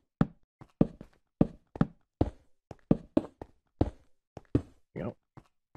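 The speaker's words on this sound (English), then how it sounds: "let me just knock out some of these blocks here" Blocks being broken in Minecraft, a series of short separate knocking taps in an uneven rhythm, fairly quiet and close, with no talking over them.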